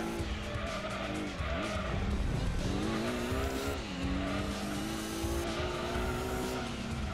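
A mid-engine, all-wheel-drive supercar races in Gran Turismo 2, its engine droning steadily and shifting pitch while tires squeal through corners, loud and continuous with no talk.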